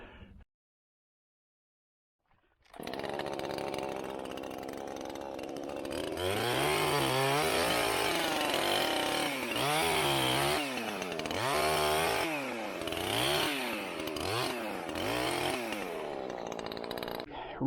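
A chainsaw cuts into a rotting white oak branch up in a tree. After a short quiet gap it starts, then the engine revs and bogs in repeated loud pulses as the chain bites the wood, close by.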